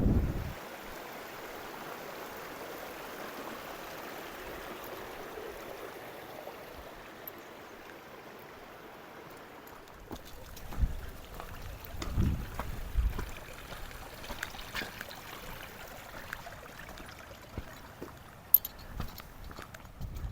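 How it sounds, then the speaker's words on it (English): Tongue Gill, a mountain stream in the Lake District with several small waterfalls, rushes in a steady broadband wash throughout, while footsteps and small scuffs from a walker nearby mix in over the second half. "Tongue Gill down there. There's quite a few little waterfalls on it as well."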